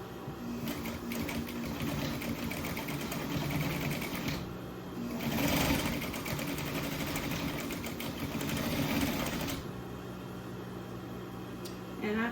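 Sewing machine stitching and back tacking around a Christmas stocking, near steady whirring that continues for most of the time with slight changes in speed and a short easing off partway through.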